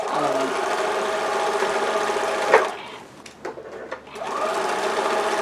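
A sewing machine runs steadily with a rapid mechanical whir, pauses briefly for a few clicks and taps, then starts up again.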